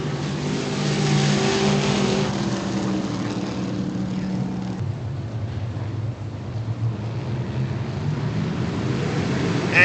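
Modified race cars roar around Virginia Motor Speedway, engines loud and droning as a pack passes, easing midway, then building again toward a closing surge.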